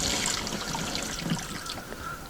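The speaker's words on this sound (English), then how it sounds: "the water will drain out of the live well" Water drains from a boat's live well in a steady, close trickling stream, a continuous gentle splashing dribble with no talking.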